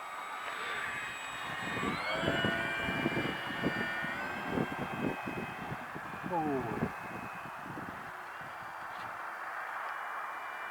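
A Flite Test Baby Blender RC plane on its maiden flight gives a steady high electric motor whine that rises and falls as it passes, with people talking over it nearby.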